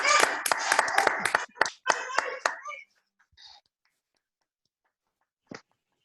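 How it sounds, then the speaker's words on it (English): A small group claps in a burst of applause for a few seconds during an online club meeting, then it trails off into near silence with a faint stray sound. "Do unmute and give her a round of applause."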